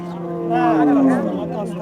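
A cow at a cattle market selling bulls, calves and dairy cows lets out a single drawn-out, loud moo, close by, with crowd noise behind it.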